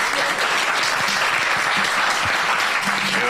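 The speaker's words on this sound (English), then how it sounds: "Maybe you can applaud them this time." An audience at a city roundtable discussion applauds the panel, a full, continuous burst of clapping from many people filling the room for a few seconds.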